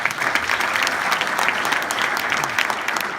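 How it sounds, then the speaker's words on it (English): An audience at a mayor's public accountability event breaks into a round of applause, a dense, continuous clapping crowd heard at full strength throughout this short stretch. "So let's give her a round of applause."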